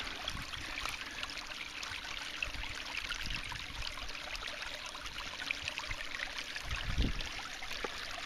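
A small home creek flowing steadily near Cahors in the Lot region, with a continuous close rushing and trickling of water and a brief louder splash toward the end.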